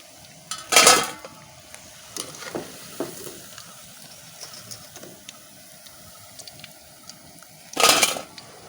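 Fried raw jackfruit pieces tipped from an oil pan into a vessel: two loud clattering, scraping bursts at the start and end, with lighter metallic clinks and faint sizzling between.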